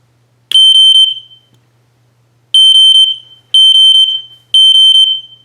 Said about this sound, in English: I set it to 3000 Hertz temporal low volume.